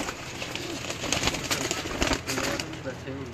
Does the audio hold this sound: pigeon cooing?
yes